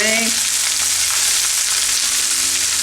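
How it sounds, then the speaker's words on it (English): Cabbage frying in a hot pan gives a loud, close, continuous sizzle with a constant hiss throughout and a brief tonal squeak at the very start, and no talk over it. "Oh, do you hear that? Oh, that is, as Chef Antonio would say, it sounds sizzly."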